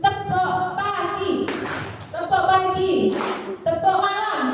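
A group of teachers claps the 'tepuk pagi' pattern, with two broadband bursts of crowd clapping. Between them, several voices talk and chant over the claps.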